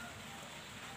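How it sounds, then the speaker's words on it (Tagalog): Rain falls steadily outside a small neighborhood store, a soft continuous hiss with no distinct drops standing out, fairly faint and even throughout. "Pasensya na kayo, umuulan ha."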